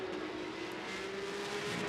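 GT race cars in the GT Cup Europe race at Portimao, a Silver class car chasing a Pro-Am car, make a steady distant engine drone with a constant whine. The sound stays faint and even, with no talk.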